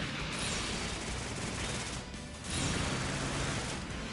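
A Gatling heavy arms weapon in a video game lays down a continuous dense roaring barrage, loud and unbroken with a slight dip midway, and no voices over it.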